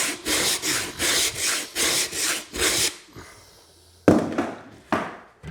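A hand rasp shaves down the edge of drywall in six steady back-and-forth strokes, close and loud, then pauses before two sharper scraping passes.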